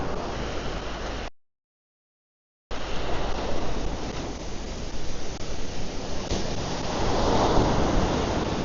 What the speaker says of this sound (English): Strong waves, but not strong. Fun to jump in.